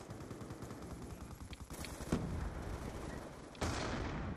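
Automatic sentry turret gunfire in Call of Duty on the Nuketown map, a dense stream of rapid shots running throughout, with louder bursts breaking in about halfway and near the end.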